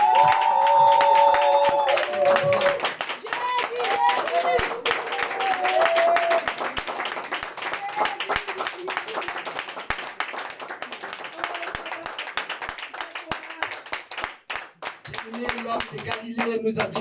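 A church congregation at a Sunday prayer service claps and cheers in a lively crowd, with sung and spoken voices carrying over the steady applause throughout.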